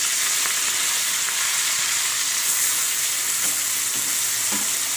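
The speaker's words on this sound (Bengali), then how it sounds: "মাছটাকে দিয়ে দিলাম ভাজার জন্য।" Tilapia fish frying in oil in a wok gives a loud, continuous sizzle close by, with faint stirring clinks and no voices.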